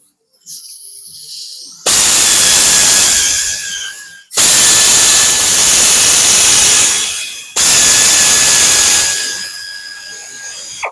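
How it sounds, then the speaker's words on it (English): Three long, loud bursts of a power tool whining at high speed while cam plate bolts come off a Harley-Davidson CVO Road Glide 121 engine, with short pauses between runs and no talk. "now we're going to go ahead and pull the cam plate bolts off"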